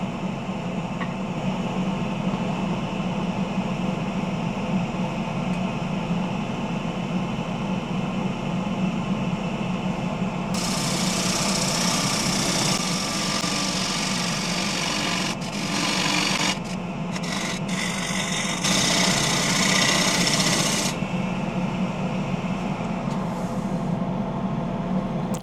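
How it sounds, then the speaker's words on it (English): A 5/8 bowl gouge cutting the outside of a wet, punky spalted alder bowl on a lathe, a steady motor hum under scraping and hissing cuts that grow louder and rougher in bursts midway. "And the 5/8 bowl gouge to finish the outside."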